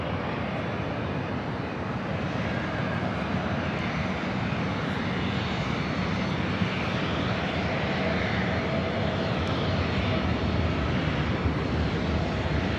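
A Delta Airlines Boeing 737-800 jet arriving at Los Angeles LAX from Seattle gives a broad, steady engine roar with rushing air, constant and fairly distant throughout with no talking.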